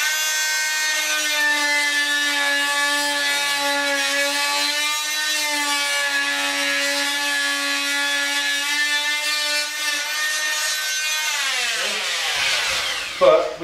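A Fein MultiMaster oscillating multi-tool running a wood blade through timber, a loud, close, sustained buzzing drone with a steady pitch that shifts slightly under load, cutting off abruptly near the end.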